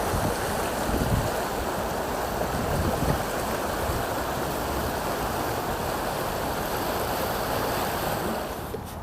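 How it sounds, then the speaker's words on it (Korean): Stream water flowing continuously after heavy rain, a steady, fairly loud rushing and babbling with no voices. "물소리가 졸졸 납니다."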